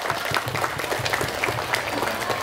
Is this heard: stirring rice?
no